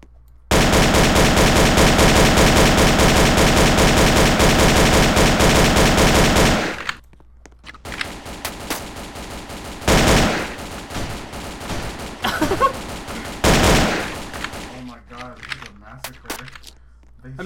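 Automatic gunfire in a Roblox Call of Duty game mows down enemies, a loud, unbroken burst for about seven seconds, then several shorter scattered shots and bursts.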